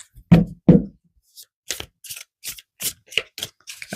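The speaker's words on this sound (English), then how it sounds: "That was some terrible, terrible shuffling." A deck of tarot cards is handled and shuffled clumsily, a few loud riffling slaps at first followed by a string of shorter, lighter card flicks and taps, close and crisp against silence.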